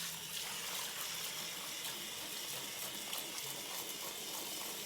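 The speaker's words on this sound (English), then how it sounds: "the water's going to go right in" Water pours steadily from a container into seed starting mix, a continuous close splashing gush with no talk over it.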